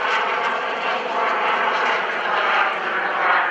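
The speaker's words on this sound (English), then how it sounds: "There's the FLS Microjet." An FLS Microjet jet aircraft makes a fast pass at an airshow, its engine a loud, steady rushing roar that swells slightly as it goes by, with no voices over it.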